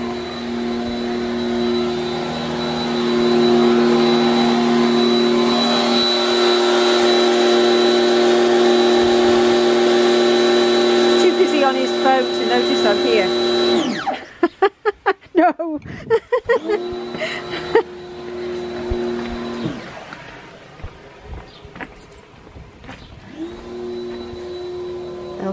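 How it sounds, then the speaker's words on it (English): A power washer cleans a back garden path, giving a loud, steady motorised whine that holds for about fourteen seconds, breaks into stuttering bursts as it cuts in and out, then restarts near the end. "it's the mister power washing the back path."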